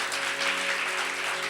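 Church congregation applauding during an evening sermon, a steady, dense wash of clapping filling the whole moment with no speech over it.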